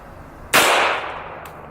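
A single .45 ACP 230-grain full metal jacket round is fired into a solid lead block: one loud, close, sharp report with a brief ringing decay, then a faint click.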